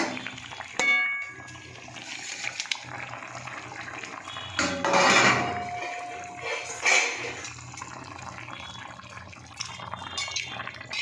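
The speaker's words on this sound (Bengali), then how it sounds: "তো বন্ধুরা আমি এবার জল দিয়ে দেবো।" Water is poured into a pan of fish curry with eggplant, giving a couple of splashing, bubbling pours with light clinks of cookware between them and no talk.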